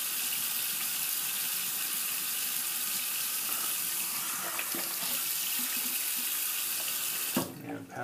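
A tap runs steadily while a razor is rinsed during a wet shave, a close, even hiss of flowing water that cuts off near the end with a few splashes.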